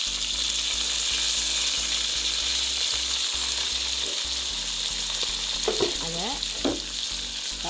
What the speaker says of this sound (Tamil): பொன்னிறமாக வரும் மட்டும் வறுப்போம்.